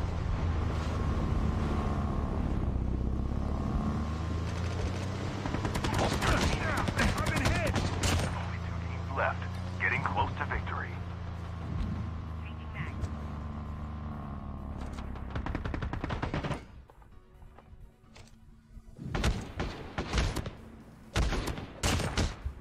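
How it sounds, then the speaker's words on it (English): Gunfire in a CoD Mobile Battle Royale match on a watery final circle, heard as dense bursts of shots over engine and water noise, then sparse loud volleys after a sudden drop, with talk throughout. "Someone's shooting me, dude."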